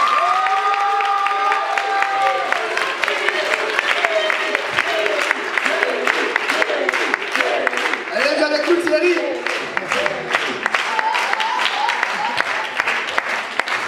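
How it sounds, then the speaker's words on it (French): An audience at a slam poetry cabaret evening applauds and cheers for Thierry, a dense wash of clapping with scattered shouts and whoops, loud and continuous, with voices mixed in. "j'aimerais des acclamations pour Thierry"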